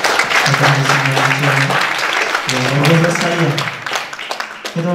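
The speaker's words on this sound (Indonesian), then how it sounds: "kita beri aplaus untuk kita di sini" Audience applause at a lecture on Islamic preaching rhetoric: a steady wash of clapping lasting several seconds, with a voice talking over it.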